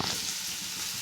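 Ridge gourd fries and gets stirred in a pan, a steady close sizzle with soft scraping stir noises running throughout, no voices.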